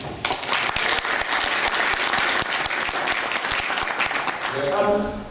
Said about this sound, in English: give a big round of applause to Alastair Naylor